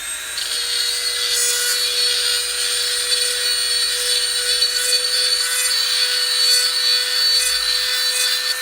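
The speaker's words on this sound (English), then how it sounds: "I'm going to take my Dremel" Dremel rotary tool deburring a 1957-62 Corvette power top deck lid arm, a high steady whine with rasping grinding bursts that rise and fall over several seconds, close and alone.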